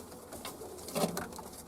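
Young pigeons from a flying kit cooing softly nearby, a few low, faint coos rising briefly amid quiet background patter.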